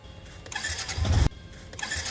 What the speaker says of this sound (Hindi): बार बार स्टार्ट करने पर भी बाइक स्टार्ट ही नहीं हो रही थी।